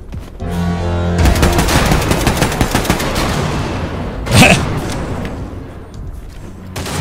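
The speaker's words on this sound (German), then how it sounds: "Die Schüsse haben dann nicht mehr gefehlt." Gunfire from the video game Wolfenstein 2: dense bursts of rapid shots crackling through most of the stretch, with a sharper loud blast near the middle, followed by quieter scattered fire.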